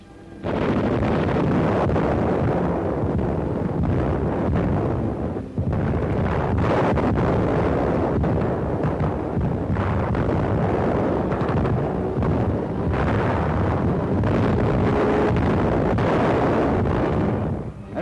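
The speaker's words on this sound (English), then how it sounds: "German artillery sets up a heavy fire against the bridgehead." Heavy German artillery fire against a bridgehead in World War II, heard as a continuous loud roar of booms and rumbling blasts blending into dense low noise with no clear gaps, recorded at a distance.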